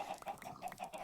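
Minecraft chickens cluck in a quick run of short, soft, repeated calls, several overlapping bursts at a modest distance with nothing else competing.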